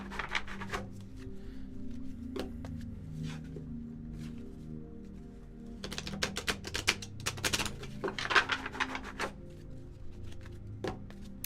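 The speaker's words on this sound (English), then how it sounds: "You guys hear me shuffling?" Tarot cards are shuffled close up in clustered bursts of rapid riffling clicks, separated by quieter pauses, with no voices.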